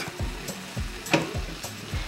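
Ground beef picadillo sizzles in a pan with seasonings and Maggi juice while being stirred, a steady close hiss broken by regular scraping strokes of the spoon.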